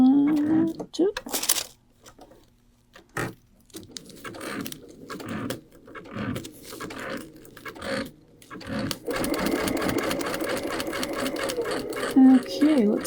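A Brother sewing machine fitted with a couching foot stitches in short bursts with pauses between, its steady whir turning longer and louder toward the end, with a voice talking over parts of it.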